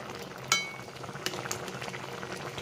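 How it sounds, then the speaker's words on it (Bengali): Curry with mustard paste and a little water simmering in a pan, a soft steady bubbling with small pops and a few sharp clinks, close and low, with no talking. "দেখো এখন কিন্তু রান্নাটা একটু ফুটছে"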